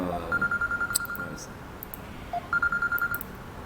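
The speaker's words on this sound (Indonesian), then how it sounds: "Sebentar HP saya bunyi." A mobile phone rings during an online lecture, two bursts of fast repeated electronic beeps about a second apart, fairly close and clear over a quiet room background.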